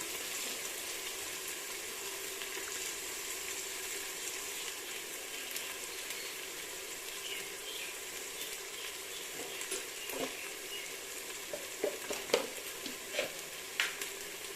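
Garlic and ginger fry in a pan with a steady hiss and sizzle, while a spoon occasionally stirs, adding faint scrapes and taps toward the end.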